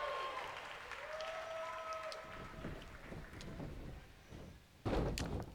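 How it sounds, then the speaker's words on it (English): A crowd roars and cheers inside the WWE 2K20 wrestling video game as the champion makes a comeback, a sustained arena din under game sounds, with a sharp burst of louder noise near the end. "the crowd's coming alive for the champ"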